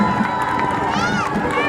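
A crowd cheers and shouts at a gathering in Gothenburg, with bright whoops and a rising, falling whistle-like cry over a steady roar of voices.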